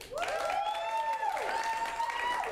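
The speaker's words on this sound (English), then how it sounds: "clap for both, but louder for the movie that you would like to see continue" An improv comedy audience claps and cheers steadily throughout, with whooping voices rising and falling over the ongoing applause.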